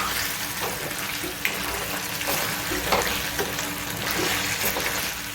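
Gunda sambharo, a Kathiyawadi gunda and methi pickle, being stirred together with salt in a bowl, giving a steady wet mixing and scraping sound with small clicks throughout, fairly close and without any talk.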